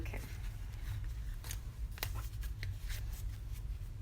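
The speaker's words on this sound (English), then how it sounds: "it feels like this is like really soothing to shuffle" A deck of reading cards being shuffled by hand, a steady soft riffling and rustling with a few sharper snaps of cards, close and alone without talk.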